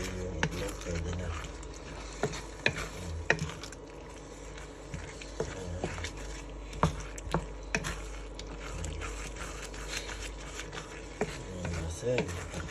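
A spatula stirs sautéed bitter gourd and egg in a pan, making a run of sharp, irregular clicks and scrapes over a low, steady background.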